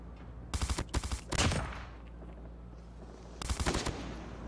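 M16 burst rifle fire in Call of Duty Mobile: three rapid bursts of loud, close automatic shots with short pauses between them.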